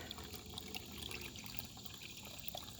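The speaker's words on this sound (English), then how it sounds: "Great little flowing spring right here." A small spring flows along the Appalachian Trail in Pennsylvania, a steady soft trickle of running water that holds close and constant with no pauses and no voices.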